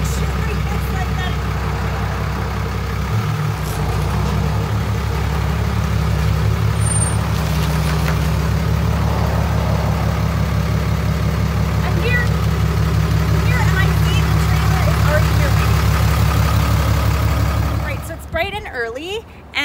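A large truck idles with a deep, steady engine rumble that stays loud throughout, faint voices underneath, and a short air-brake hiss and clatter near the end.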